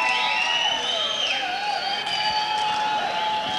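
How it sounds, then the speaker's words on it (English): Crowd noise at a 2001 boxing match between Lincoln Stewart and Zulfikar Joy Ali, a steady roar of cheering and whistling voices from the audience that sustains at an even loudness throughout. "Getting more applause than the fighters"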